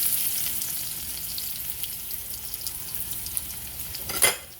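Steady crackling sizzle of garlic frying in a hot pan after tofu, with a brief louder burst of sizzling near the end.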